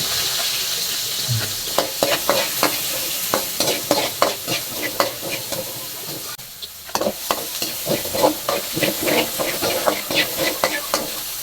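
Plenty of sliced onions sautéing in a hot pan for chicken afritada, a steady loud sizzle broken by regular scraping strokes of a spatula as they are stirred, close up.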